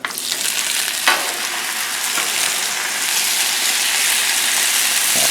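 Potatoes fry in vegetable oil on a Blackstone griddle at medium heat, a loud, dense sizzle that swells after one sharp clink and keeps a steady hiss, with no voices.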